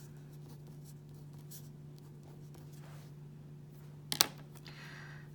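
A marker writes on a board while an algebra problem on the distributive property is worked out: faint, scattered strokes over a steady low hum, with one sharper tap near the end.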